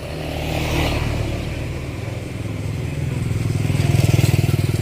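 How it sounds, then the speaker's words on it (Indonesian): A three-wheeled motorcycle passes along a narrow village road, its engine a steady buzzing drone that builds and pulses louder toward the end as it draws near. "Ini kalau di Indonesia dinamakan motor roda 3"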